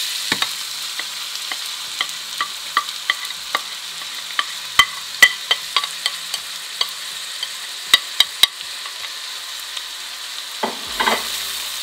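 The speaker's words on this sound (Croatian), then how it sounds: "Kada vidimo da je ulje vruće, na njega ću dodati luk." Onion frying in hot oil in a pot for krompiruša, a soft constant sizzle dotted with many sharp spoon taps and scrapes, a louder stirring scrape at the end, with no one talking.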